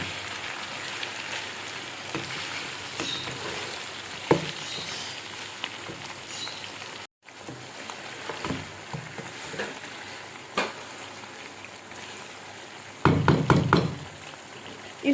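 Tomatoes fry in a chicken garlic karahi with a steady, close sizzle and crackle lasting many seconds, broken by a brief cut and a few louder stirring clatters near the end.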